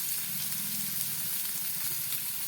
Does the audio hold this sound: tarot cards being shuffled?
no